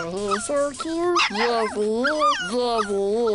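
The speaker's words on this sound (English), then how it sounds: "Now that's a dog. Look at him." A dog whimpers and yips in high, wavering whines close by, while people talk affectionately over it.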